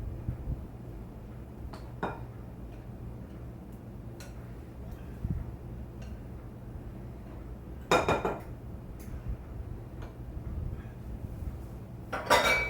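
A spoon stirs canned pumpkin puree in a pot, giving a few sparse, quiet clinks and taps against the metal with soft stirring between them in an otherwise hushed kitchen.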